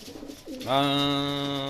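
A racing pigeon gives a single close, clear coo, a short rising note that settles into a steady hum for about a second.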